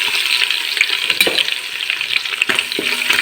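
Mustard seeds, green chillies and curry leaves crackle in hot oil for a tempering, a bright continuous sizzle with a few stirring knocks, loud and close.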